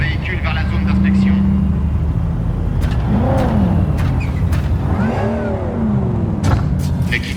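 A vehicle in a video game drives toward an inspection zone, a continuous engine drone with rising and falling revving tones, fairly close, while a voice speaks over it.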